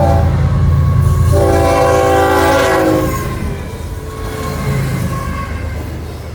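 A loud train horn blares in a long sustained blast at a crossing over heavy rumbling rail noise, then fades as the train keeps rolling past close by.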